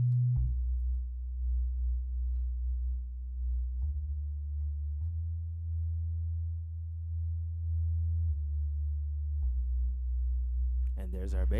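A dark, filtered synthesizer pad bass dropped down an octave, heard alone as sustained low tones that shift pitch every few seconds, with a brief brighter burst at the end.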